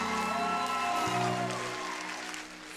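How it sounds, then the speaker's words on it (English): A concert audience at a charity benefit show applauds the band, a dense, steady wash of clapping that stays loud throughout, with sustained musical tones ringing underneath. "Can we give a round of applause for the band?"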